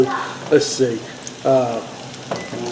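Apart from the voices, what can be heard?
food sizzling and popping in frying oil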